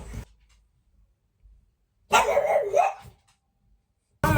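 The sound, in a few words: dog barking at the gardener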